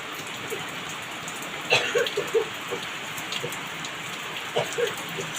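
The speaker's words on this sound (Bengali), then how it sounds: "এখনো বৃষ্টি হচ্ছে।" Steady evening rain falls on surfaces at moderate distance, a continuous hiss with a few faint, scattered sounds over it.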